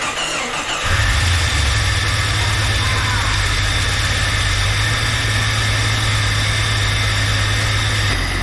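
An old Jeep engine cranks and catches about a second in, then settles into a loud, steady, rough idle with one cylinder misfiring, accompanied by a persistent high belt-like squeal throughout.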